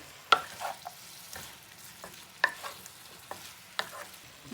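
Green pasta with cabbage is stirred in a pan, with a low sizzle under a handful of distinct scraping and tapping strokes from the utensil, spaced about a second apart, close and alone.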